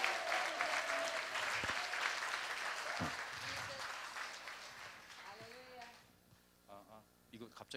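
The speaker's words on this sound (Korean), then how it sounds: "Could you just give the Lord Jesus Christ a hand clap of praise?" A church conference congregation applauds in praise, with a dense burst of clapping that gradually thins and fades while voices carry over it toward the end.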